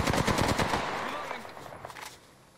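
Automatic weapon fire in the battle royale game Apex Legends opens with a loud rapid burst of shots, then fades into softer scattered pops and an echoing tail over a few seconds.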